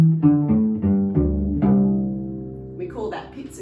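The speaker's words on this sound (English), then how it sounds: "We call that pizzicato in the music" Cello strings plucked pizzicato: about five or six close, resonant plucked notes in quick succession, each ringing and decaying, the last one sustaining longer before a voice starts speaking at the end.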